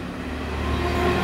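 A Danish IC3 intercity train passes close by, a steady loud rumble and rail roar with low engine drone that swells slightly toward the end, no voices.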